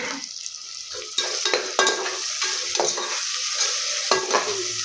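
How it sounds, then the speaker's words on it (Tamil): Tomatoes with ginger-garlic paste sautéing in a hot pan, a steady close sizzle broken by repeated scraping stirs of a spoon against the pan; no voices. "இது வந்து நல்லா வதங்கிக்கிட்டு இருக்கட்டும்"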